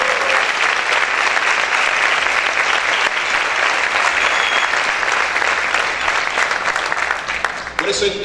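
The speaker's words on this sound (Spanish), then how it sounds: "Ese aplauso para el Señor, déselo con ganas." A church congregation gives a steady, full round of applause for the Lord during a sermon, many hands clapping densely and evenly for several seconds before tapering abruptly near the end.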